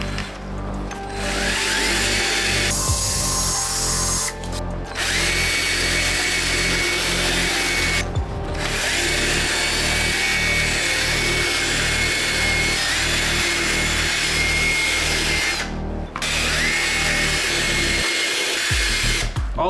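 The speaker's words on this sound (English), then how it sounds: "just use strictly the drill to hit the uppers and the bottoms of these shoes" A power drill whirs loudly and steadily with a scrubbing brush grinding against the uppers and soles of mesh/knit sneakers, the motor briefly cutting out a few times before spinning back up.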